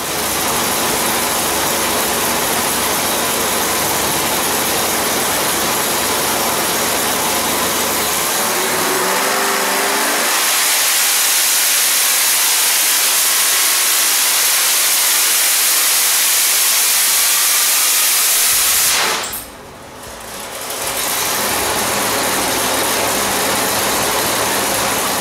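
A 940 hp, 2.9L Whipple supercharged 376 cubic inch LS engine on 93 octane running on a dyno, a loud continuous roar building as it climbs, then a sharp drop as the pull ends before a steady drone returns.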